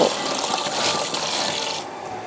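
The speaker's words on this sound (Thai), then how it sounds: "เอาไปล้างให้สะอาดก่อนเจ้า" Vegetables, including purple cabbage, being washed under running tap water that pours in a continuous close, loud gush and then drops away sharply near the end.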